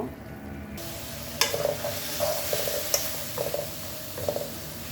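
Jackfruit seeds sizzle and crackle in a wet spice masala of chili and turmeric powder, with steady frying hiss under scattered scrapes and clinks as the mixture is stirred in the pan; no voices.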